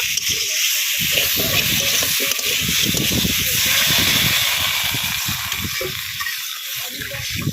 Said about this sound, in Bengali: আলু দিয়ে তিন চার মিনিট কষিয়ে নিয়েছি এবার জল দিয়ে দেব